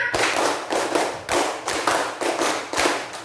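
A classroom of pupils claps in unison, two rounds of a five-beat pattern, sharp rhythmic hand claps close and loud with no talking over them.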